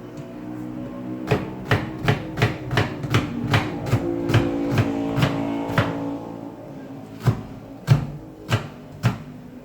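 A knife chops an onion on a cutting board while making butternut soup, giving a steady run of sharp, close, evenly spaced thuds, a brief pause, then a few more spaced chops.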